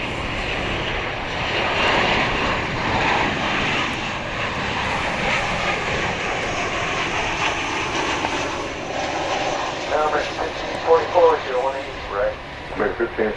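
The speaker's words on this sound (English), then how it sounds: "It's a 737-800. Our first arrival of the morning here on Runway DFW" Boeing 737-800 jet airliner arriving at Dallas/Fort Worth airport, a loud sustained engine roar and whine that gradually eases, with a voice talking over it toward the end.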